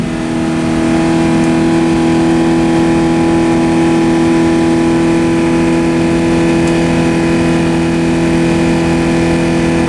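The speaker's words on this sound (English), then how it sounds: "That's as high as it'll let me rev and park." A car engine held at a steady high rev while in park, warmed up after idling, during an experiment with brake fluid in the motor; a loud, constant droning whine with no pauses and no talking.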